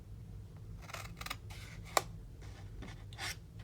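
Paper being cut with scissors while crafting a snack box, several soft snipping and rubbing passes spread across the moment, faint and close, with a single sharp click partway through.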